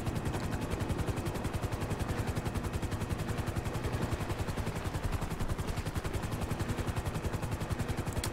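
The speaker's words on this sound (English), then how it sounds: "So helicopter is at about 108 feet and the hoist is coming down." A coast guard helicopter hovers in GTA 5 with a steady, loud, rapid rotor chop that pulses evenly throughout, no voices present.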